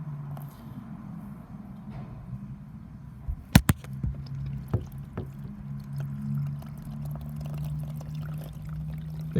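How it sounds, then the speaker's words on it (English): Water is poured onto the roof of a 2008 VW Golf TSI Cabriolet, whose rear passenger-side roof drain is blocked. A low, steady pouring and draining runs throughout, with a few sharp knocks partway through. "So if my colleague just puts some water down,"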